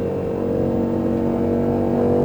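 An Aston Martin Vantage engine revs hard at full throttle on a track, a loud, continuous high-pitched roar that climbs slightly toward the end.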